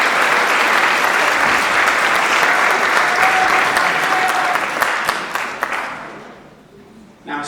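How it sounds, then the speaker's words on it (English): An audience at a suicide prevention event applauds students with loud, sustained clapping from a crowd that gradually fades out over several seconds, ending with a few scattered claps and a brief voice. "Can you give a round of applause for our students?"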